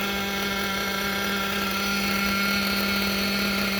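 Reds 521 nitro model engine idling on its carburetor alone, a loud, steady, buzzing drone held close and unbroken, with no talk.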